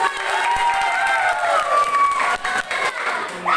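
Students at a high school student council election applaud and cheer after a candidate pair's vote count is announced, a lively burst of clapping and shouting from a close crowd with voices mixed in.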